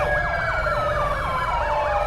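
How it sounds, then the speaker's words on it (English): Police car sirens wail continuously in GTA 5, with loud overlapping rising and falling tones sweeping steadily over a low engine rumble, no voices present. "Unfortunately, the sirens are gonna be blaring for a while here."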